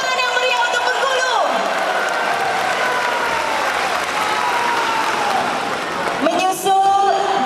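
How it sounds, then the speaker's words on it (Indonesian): A crowd at a Forkabi anniversary and Halal Bi Halal gathering bursts into loud, sustained applause and cheering for the Bengkulu provincial delegation, with a dense roar of clapping and whoops throughout and a brief surge near the end. "Tepuk tangan yang meriah untuk Bengkulu."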